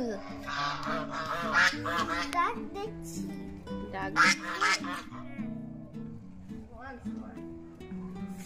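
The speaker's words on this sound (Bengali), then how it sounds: "ডাক না, এটা সোয়ান।" Honking calls from several swans, loud and close, repeat in bursts while voices talk over and between them.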